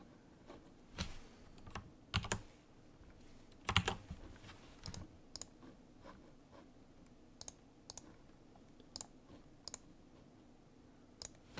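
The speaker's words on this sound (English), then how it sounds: "So we'll type in our password there." A password being typed on a computer keyboard during the setup of a Windows 98 virtual machine: sparse, irregular key clicks, some in quick pairs, close and crisp against a quiet room hum, with no talking.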